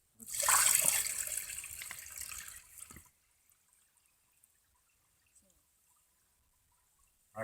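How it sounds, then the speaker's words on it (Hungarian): Water pours for about three seconds into the crankcase of a fire pump being primed, a loud rushing splash that stops abruptly, followed by near silence and faint handling clicks. "Tehát, hogy a forgattyús házban addig víz legyen, amíg a szivattyú elméletileg föl nem szívja"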